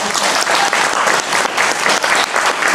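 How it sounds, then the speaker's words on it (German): Audience applause for an interpreter at a stand-up comedy show, a dense, steady wash of clapping from a full room that carries on loudly throughout without talk over it. "Applaus bitte für die Dolmetscherin."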